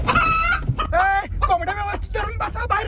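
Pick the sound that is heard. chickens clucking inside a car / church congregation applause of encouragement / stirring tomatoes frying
chickens clucking inside a car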